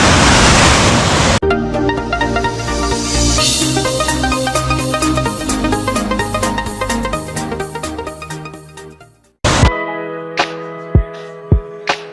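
Loud, steady roar of sea waves at a coastline near waterfalls, the broadband rush filling the scene before a sudden drop in level, followed by tonal ringing sounds.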